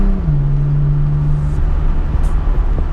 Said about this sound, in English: put the Targa down, no tunes on, you listen to the exhaust